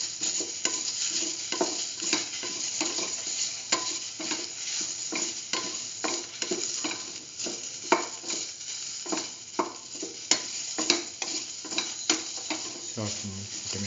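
A soy chunk and tomato mixture sautés in a pan with a continuous sizzle and frequent rhythmic scrapes and clacks of a spoon stirring it, close and fairly loud, with no talk.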